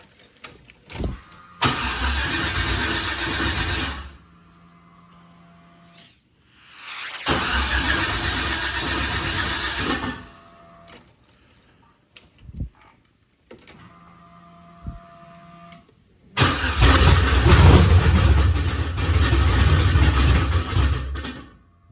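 An LS-swapped project car cranks and fires three times, each run a loud, close, rough burst of engine noise that dies after a few seconds, with quiet gaps and faint jingling between attempts.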